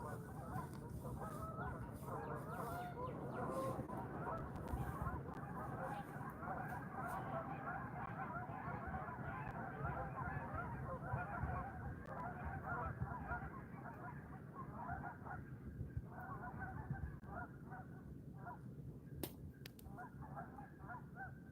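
A flock of Canada geese honking loudly and continuously outdoors, many overlapping calls forming a dense, steady clamor for over twenty seconds, with some faint voice-like sound mixed in.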